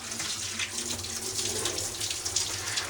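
Water runs steadily from a tap while black-dyed jeans, dyed with Procion reactive dyes in a bucket, are rinsed, making a continuous splashing hiss with no voices.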